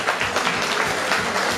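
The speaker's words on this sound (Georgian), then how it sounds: "მოდით გუხარე აპლოდისმენტები ნეფე დედოფალს" Guests at a wedding applaud the bride and groom, a steady wash of clapping that holds evenly through the moment with no pauses.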